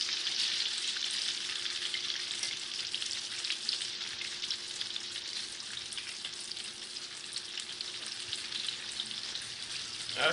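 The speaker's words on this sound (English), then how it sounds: "you can see that sizzle right there" Chicken fries in a pan, sizzling with a constant crisp, bubbling hiss that holds at a steady moderate level throughout, with no voices.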